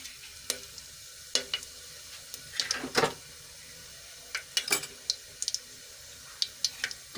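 Dry red chilies, star anise, cloves, cinnamon and bay leaves crackle in hot oil with a soft sizzle, broken by scattered sharp pops and a few spoon clicks against the pan, close and fairly quiet.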